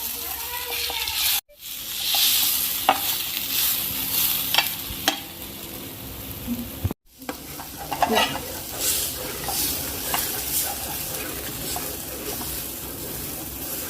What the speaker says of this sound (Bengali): দিয়ে এবার ভেজে নেব